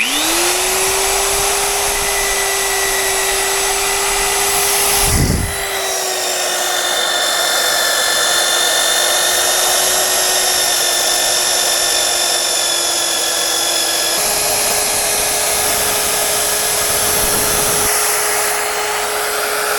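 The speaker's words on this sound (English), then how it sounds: "I'm going to drill this out with a mag drill, probably that diameter." A magnetic drill whines loudly and steadily as it bores an 11/16-inch hole into steel, with a brief pause and a shift in pitch partway through.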